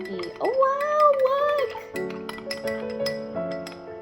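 A spoon clinks against a glass while stirring Vietnamese coffee with condensed milk, sounding as a quick run of bright, close chimes with a voice talking over the first part.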